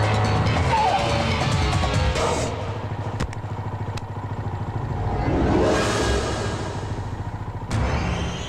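Cars stuck in a traffic jam during a Telugu film comedy scene: a steady engine rumble with motorbike-like revving fills the scene, broken by a few sharp thuds and clattering knocks.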